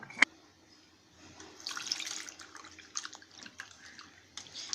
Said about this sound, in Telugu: 1/2 టీ స్పూన్ పసుపు, కొద్దిగా నీళ్లు పోసి కడుక్కోవాలన్నమాట.